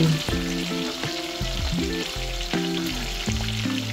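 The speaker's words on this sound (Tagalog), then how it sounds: "kaya lang piniprito ko. At olive oil ang gagamitin." Salmon frying in olive oil, a dense steady crackling sizzle heard close up, with tonal notes layered over it and no speech.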